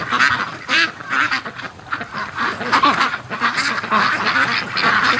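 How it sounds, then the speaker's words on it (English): A loud, dense chorus of many ducks quacking close by in a pen while eating, overlapping calls continuing without a break. "ducks are in the pen eating"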